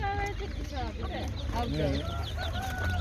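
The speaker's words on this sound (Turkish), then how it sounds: "Horozumuz var." Roosters crow and cluck over one another at a busy poultry market in Çubuk, Ankara. The calls come close and loud, with people talking and a steady low hum running underneath.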